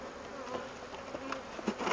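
Honeybees buzzing around a beehive that has been moved, a close, busy swarm of overlapping wingbeat hums with individual bees passing near the microphone.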